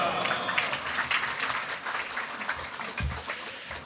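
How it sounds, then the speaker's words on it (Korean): A church congregation at a morning prayer meeting applauds to welcome a pastor, with many hands clapping briskly and evenly at close range, fading slightly toward the end. "할렐루야 하나님께 영광 돌리며 박수로 환영하시겠습니다"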